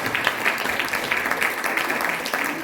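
Steady, dense applause from an audience for a bassist after a jazz performance, close and loud throughout the short burst.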